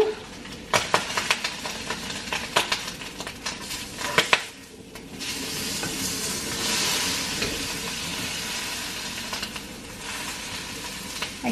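Sausage fries in a pan with a steady close sizzle and hiss, broken by scattered clinks and scrapes of utensils against the pan.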